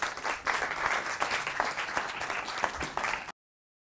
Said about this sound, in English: Please give Ganoune a round of applause.